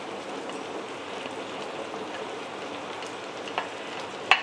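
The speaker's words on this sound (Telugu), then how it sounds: "దీంట్లో మనం టమాటాలు వేసుకుందాం ఇప్పుడు" Tomatoes go into a hot pan for bottle gourd chutney, giving a quiet, steady crackling sizzle with a couple of brief utensil clinks near the end and no speech.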